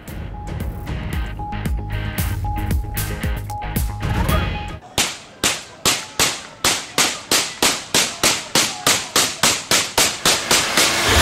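Celebratory gunfire after an election win in Peshawar: loud, sharp shots in a rapid, evenly spaced series, first blurred under a dense background din, then ringing out as distinct cracks.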